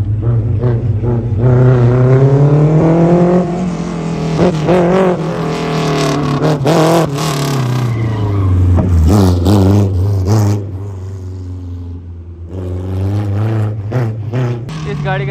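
A modified car with an H23 engine, air suspension and nitrous revs and races at an autocross event, its loud engine note climbing and falling through repeated acceleration close by, with voices mixed in.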